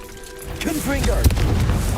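A fiery Confringo spell blast in the video game Hogwarts Legacy: a deep boom swells and peaks sharply near the middle, then rumbles on, with a voice-like tone mixed into the game sound.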